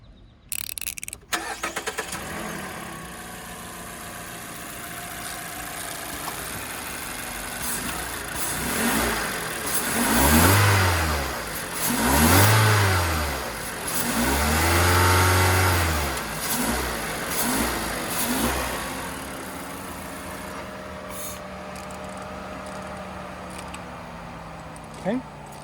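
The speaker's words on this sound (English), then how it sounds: "Let's go ahead and fire it up and see how it sounds." A 2012 Mazda 3 fitted with a short ram air intake starts up, then revs three times in swelling bursts before settling to a steady idle, loud and close.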